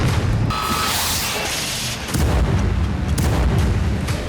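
Heavy booms and rumbling blasts of artillery fire in the Russia-Ukraine war, loud and continuous, with sharp cracks cutting through a dense roar.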